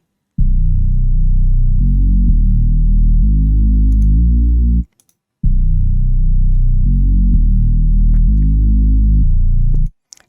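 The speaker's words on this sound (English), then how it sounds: "the little Reese bass that goes on, which sounds like this" Reese bass synth from a hyperpop beat, loud and alone: two sustained low phrases of stepping notes, each about four and a half seconds, split by a short gap.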